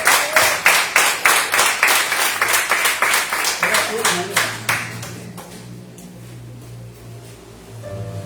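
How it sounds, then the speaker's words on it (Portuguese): A church congregation claps in praise, a steady rhythmic run of loud hand claps that fades out partway through, leaving a low hum and quiet background. "Aplauda o Senhor, querido."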